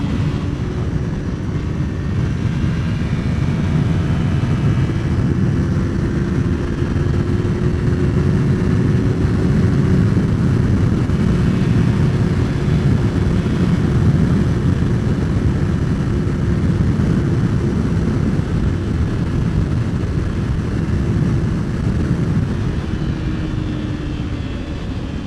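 A 2006 Kawasaki Ninja 250 cruises at highway speed just under 9,000 RPM, its steady high-revving engine drone blended with heavy, constant wind rush throughout.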